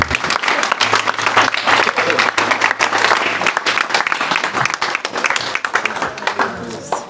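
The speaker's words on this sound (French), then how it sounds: "Tous applaudissements, s'il vous plaît," Lively crowd applause at the inauguration of a renovated chapel, dense clapping lasting several seconds with voices mixed in.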